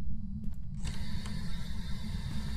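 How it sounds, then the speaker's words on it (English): A door creaks open in the Phasmophobia ghost-hunting game, a drawn-out mechanical groan over a steady low rumble, starting sharply partway through and continuing to the end. "He's playing with the door."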